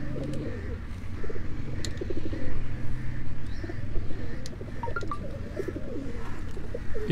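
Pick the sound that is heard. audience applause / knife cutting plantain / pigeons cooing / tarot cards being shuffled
pigeons cooing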